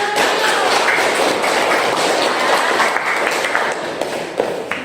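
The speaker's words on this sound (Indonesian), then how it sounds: "Ya, tepuk tangan." Applause from a classroom of students, a dense, steady wash of many hands clapping at close range that runs for about five seconds and thins slightly toward the end.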